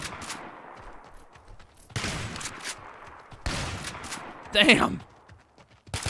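Shotgun blasts in a video game firefight, a few broad booming bursts spread across the span with one sharper, louder crack near the end, while a voice exclaims briefly.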